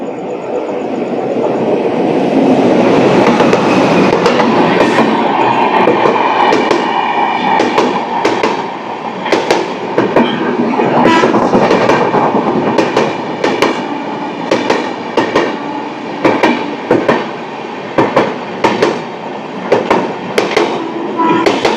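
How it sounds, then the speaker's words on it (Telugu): A train rumbles past a railway station platform with a steady rhythmic clickety-clack of wheels over rail joints, loud and close, continuing throughout. "ప్లాట్ఫామ్ నెంబర్ 1 మీద అయితే ఒక ట్రైన్ వస్తుంది"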